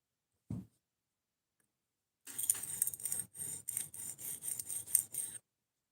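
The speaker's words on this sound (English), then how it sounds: "now I'm reprofiling the curved section because I screwed up a little bit when sharpening" A Nitro V steel knife blade being reprofiled along its curved section, heard as a burst of close, rhythmic rasping strokes, about eight in quick succession, after a brief knock and a pause.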